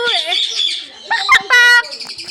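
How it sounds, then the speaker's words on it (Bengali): A green bird calls in a park with loud, close, bright chirps and a sharp buzzy trill. Someone speaks between the calls. "এটা এটা সবুজ সবুজ সবুজ পাখি।"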